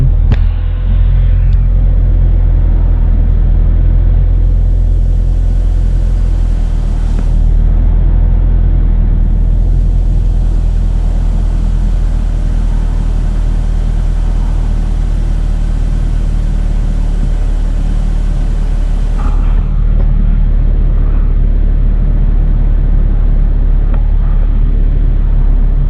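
A Mini Cooper 1.6 R50 engine idling with the bonnet open, a loud, steady low rumble heard up close and alone for the whole stretch, with no talking.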